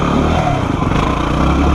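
A dual sport motorcycle engine on a trail holds a loud, rough, high-revving drone, steady and close throughout the short stretch.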